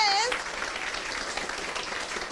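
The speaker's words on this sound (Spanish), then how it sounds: "Un aplauso para ustedes." Brief burst of audience applause for a group of students at a school event, dense clapping following a fading tonal sound, steady and moderately loud.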